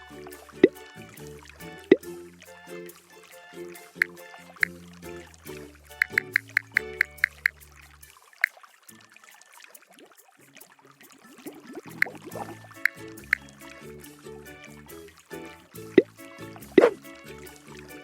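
Cartoonish water sounds from a pipe repair video game: soft trickling and pouring with bright, plinking drips scattered in short bursts, over light, bouncy game music.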